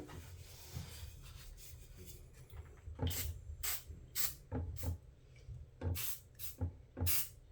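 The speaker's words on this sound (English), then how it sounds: "Have yourself some WD-40." Short bursts of WD-40 lubricant spray from an aerosol can during locomotive simulator fan disassembly, about seven close, loud hissing squirts in an irregular rhythm after a quieter stretch of handling noise.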